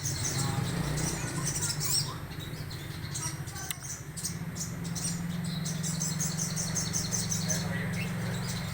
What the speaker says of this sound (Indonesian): Burungnya kecil tapi suaranya ngentring sekali, mengeluarkan suara-suara kristal.